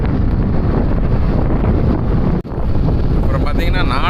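Strong wind blowing hard, loud and buffeting across the microphone in a continuous roar that dips once for an instant, with a voice talking underneath.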